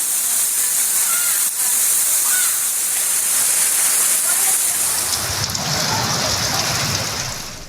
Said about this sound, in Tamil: பல்வேறு பகுதிகளில் பலத்த மழை கொட்டியது